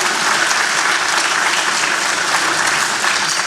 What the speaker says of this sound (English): we'll give Brian another round of applause